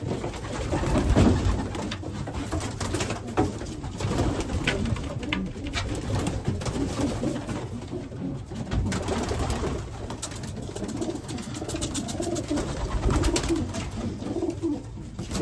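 Racing pigeons coo continuously in low, throaty murmurs, several birds layered together at close range, with rustling and flutter in the background.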